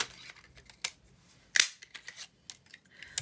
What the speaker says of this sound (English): let me die cut one and I can tell you them